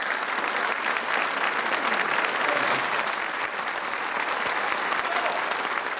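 Long, sustained applause from a standing audience in an ovation, a dense continuous roar of clapping at full strength throughout, with a faint murmur of crowd voices mixed in.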